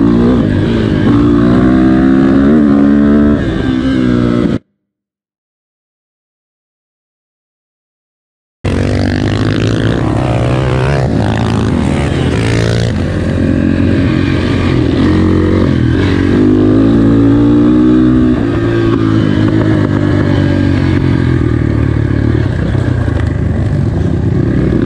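Small-displacement dirt bikes at a bike festival ride together in a group, engines buzzing and revving loudly and continuously close by, with a brief gap of silence partway through.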